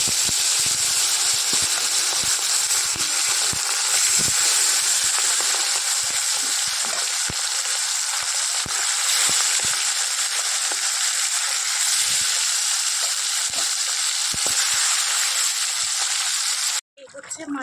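Fish frying in hot oil in a home kitchen: a loud, steady, hissing sizzle that fills the whole stretch, with small pops and clicks of stirring and a brief break near the end.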